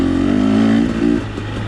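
A 2021 300XC dirt bike on a mountain ride revs loud and close under throttle, a buzzing two-stroke engine note that holds high then dips and settles briefly.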